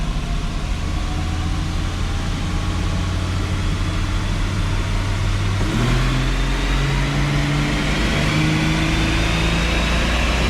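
A car in a second-gear pull from 2,000 RPM at full throttle: a loud, steady engine drone climbs gradually in pitch as revs build, with a brief shift-like change midway and continuous road noise, no voices.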